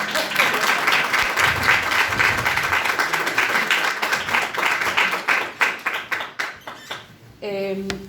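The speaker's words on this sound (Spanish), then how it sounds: "Un aplauso para la directora" Sustained applause from an audience at a book presentation, dense clapping that thins into a few scattered claps before a voice begins speaking at the end.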